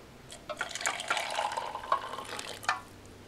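Water poured into instant chicken and pasta soup on a hot cooktop, a soft, uneven splashing trickle lasting a few seconds, quiet and close.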